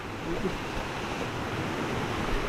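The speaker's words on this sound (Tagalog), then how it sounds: "Ayun oh, tuloy-tuloy ang tubig dyan oh." Water pours continuously at a resort, a steady broadband rush that stays loud and even throughout, with no voices heard.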